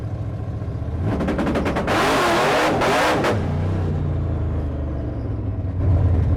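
A drag race car accelerates hard and spins its tires, a loud close engine roar building through a rapid stutter into a sustained rasping burst of wheelspin, then settling back to a rumbling idle.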